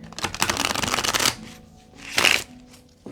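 Cards riffle-shuffled in a rapid fluttering burst, then a brief pause and a shorter second riffle as the deck is bridged together.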